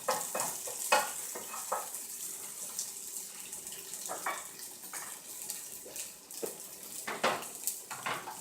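Tofu fries in coconut oil in a pan with a soft, hissing sizzle, broken by scraping and clattering bursts as it is stirred around, close and fairly quiet, with no voices.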